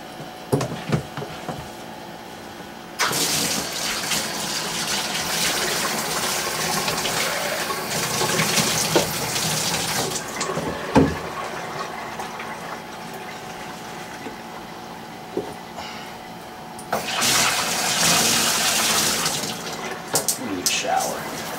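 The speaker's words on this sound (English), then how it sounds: "Shower." A shower sprays water into a tub, making a loud, steady rushing hiss. The spray cuts off near the start and again for a stretch partway through, then resumes, with some faint talk underneath.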